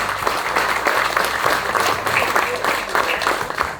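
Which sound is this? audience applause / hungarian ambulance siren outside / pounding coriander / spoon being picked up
audience applause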